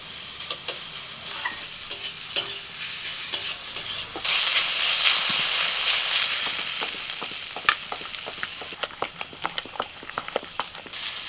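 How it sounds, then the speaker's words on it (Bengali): Chopped onions fry in a hot pan with a steady hiss of sizzling oil, punctuated by sharp scraping and tapping as a spatula stirs them, louder for a stretch in the middle. "বেশ কিছুক্ষণ পেঁয়াজটা ভেজে নেওয়ার পরে"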